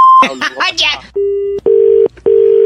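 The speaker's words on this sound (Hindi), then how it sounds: "सॉरी अंकिल, गलती से फोन कट गया था" A telephone call cut off, with a short beep and a clipped burst of speech, then a steady tone repeating in three even pulses after the line drops.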